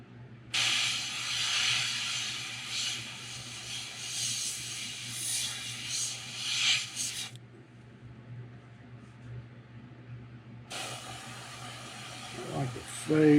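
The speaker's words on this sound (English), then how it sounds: "I'm going to crank my pressure down. Try 20. Make sure we're getting good spray." Bursts of airy, high-pitched airbrush spraying hiss at about 20 pressure while painting a fishing lure, one long burst followed by a pause and another, with a low hum underneath.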